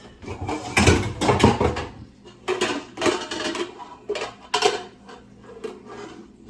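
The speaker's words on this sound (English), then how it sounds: "Now I'm gonna get my pot." A metal cooking pot is picked up and handled in a kitchen while making bone-in stew butter chicken. Loud, irregular clanks and clatters come in bursts with short pauses between them, close to the listener, with no talking.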